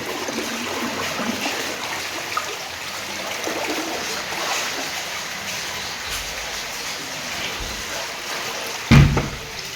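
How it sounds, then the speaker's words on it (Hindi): Floodwater rushes steadily through a street in Jamnagar, a continuous close wash of flowing water with a brief sharp bump near the end. "ये पूरा पानी आ गया चल के"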